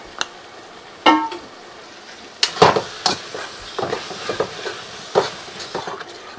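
Cumin, coriander and fennel spice paste with soaked chili powder stir-fried in a pan, several distinct scraping stirs and clinks over a soft ongoing sizzle, close and moderately loud.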